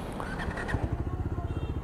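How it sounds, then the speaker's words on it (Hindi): Bajaj Dominar 400 motorcycle, a 2021 BS6 model, running just after being started: a steady low engine throb with regular pulsing beats, fairly faint and alone. "बाइक स्टार्ट कर दी है"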